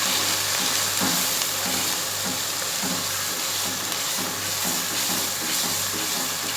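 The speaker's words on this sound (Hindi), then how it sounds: "अब इन तमाम स्पाइस को भी हम प्याज में अच्छी तरह भूनेंगे।" Spices frying with onions and ghee in a pot, a loud continuous sizzle with steady hiss and faint stirring scrapes, close up and without talk.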